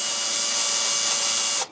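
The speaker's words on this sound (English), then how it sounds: "Drill a bit." A sharp metal drill bit at low speed bores out a rivet during repair of a black-and-white tube television, giving a steady, loud, close grinding whine that runs unbroken and then cuts off abruptly at the end.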